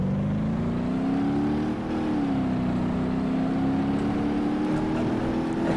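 A game car in BeamNG Drive drives with its engine running steadily and revving gently, a continuous close drone that rises and dips slightly in pitch throughout.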